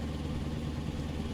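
Steady truck engine drone in Euro Truck Simulator 2 at high revs, with a faint sewing-machine-like ticking riding on the continuous low rumble, heard alone without talk.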